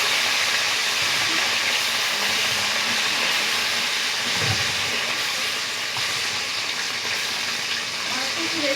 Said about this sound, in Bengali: তো উল্টিয়ে পাল্টিয়ে লাল লাল করে ভেজে নেব।